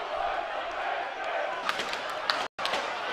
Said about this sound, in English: There's the crowd again.